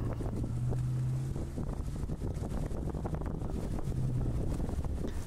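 A wooden fishing boat's engine passes at sea during deep-sea tuna fishing off Kerala, a low droning hum with wind buffeting the microphone throughout.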